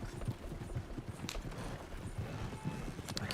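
Horses' hooves clip-clop in a steady, quick rhythm as a team pulls a delivery wagon, quiet and somewhat distant over a faint background rumble.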